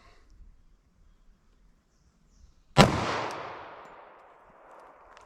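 A single sharp .45 ACP gunshot from Winchester USA Ready Defense ammunition fired into ballistic gel, an abrupt loud crack after near silence that rings out and decays over a couple of seconds.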